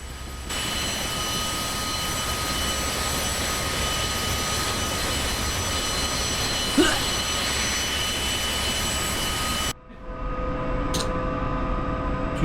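A CH-47F Chinook helicopter engine running through start-up in the DCS flight simulator, a steady loud turbine whine and roar holding evenly, then cutting to a quieter cockpit hum near the end, with no talking.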